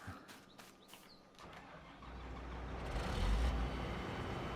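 Combine harvester engine in Farming Simulator 22, a low rumble that swells and settles into a steady drone after a few short clicks, with no talking.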